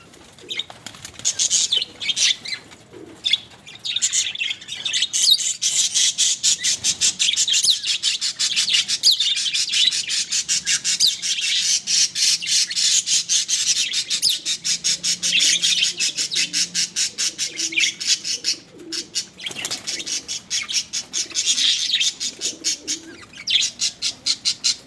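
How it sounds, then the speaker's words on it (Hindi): Pet parrots kept in a home bird setup with pigeons squawk and chirp continuously, loud and close, with steady fluttering and wing flaps throughout and no talk. "और ये कुछ तोते भी रखे हुए हैं।"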